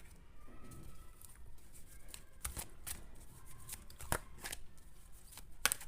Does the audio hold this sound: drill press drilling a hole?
no